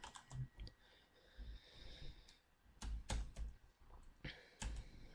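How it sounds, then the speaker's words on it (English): Typing on a computer keyboard while entering data into an Excel spreadsheet, soft close key clicks in short bursts with pauses between them, quiet overall. "So we'll find out by typing this in."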